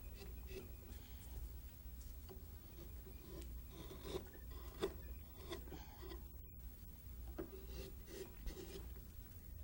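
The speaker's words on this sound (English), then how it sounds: "This tool I've been using is a number 2 30 millimeter gouge, and it's very flat." Wood carving with a very flat number 2, 30 mm gouge, shaping the wings and scapulars of an Adirondack loon, giving a steady run of soft scraping and rasping strokes, close and fairly quiet, with no voices.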